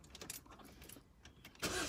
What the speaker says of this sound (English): We're going to start the car up and see what we're sitting at